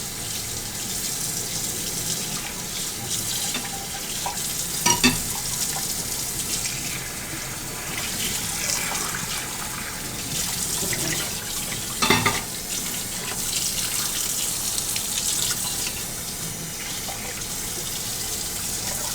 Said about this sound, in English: Let me get my spoon. Rinse that off.